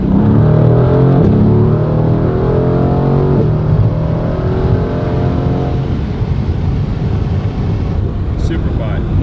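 Car with a loud aftermarket exhaust pulling hard on a freeway, a deep droning engine note rising in pitch as it accelerates, then settling into steady road roar, heard from inside.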